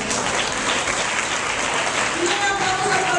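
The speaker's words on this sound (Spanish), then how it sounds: "Para ella también deseamos y le pedimos un aplauso." A crowd at a birthday celebration held at a special education school applauds continuously in a dense patter, with voices faintly audible beneath the clapping.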